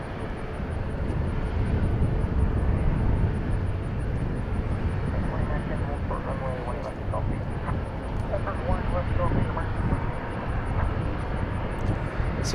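A British Airways airliner at a busy airport gives a steady, broad engine roar that stays loud throughout, with a faint repeating high beep and a few voices in the background.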